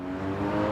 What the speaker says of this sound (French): on y va, on accélère bien jusqu'au double cône